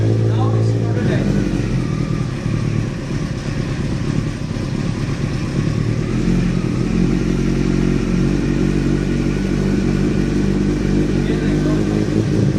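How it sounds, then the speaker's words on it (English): A prototype motorcycle engine idles loud and close while warming up, a steady rumbling throb with light mechanical clatter and no voices over it. "Bike is still warming up"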